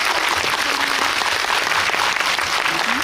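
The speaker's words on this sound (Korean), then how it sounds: "큰 박수 부탁드립니다." Audience at a film screening in a Busan cinema hall breaks into sustained, dense applause, loud and steady throughout with no voices standing out.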